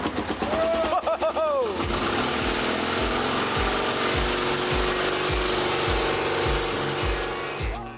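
An old bulldozer engine started by pulling a rope catches and settles into a loud, steady chugging idle with regular low knocks, after a brief whine at the start.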